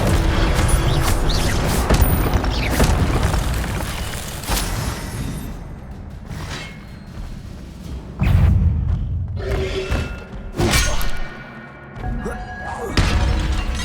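A fire spell being cast in Hogwarts Legacy, giving a sharp shattering burst over dense game ambience, followed by several loud thumps and crashes across the scene.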